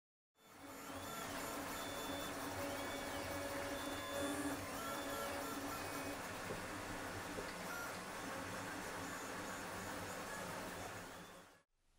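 A 3D printer prints servo bracket parts for an Ultron robot's arm, its stepper motors whirring steadily with rising and falling tonal sweeps as the print head moves, close and continuous without speech.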